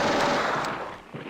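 Gunfire in the Steel Panthers WW2 strategy game, a loud burst of shots that decays over about a second, followed by a fainter pop.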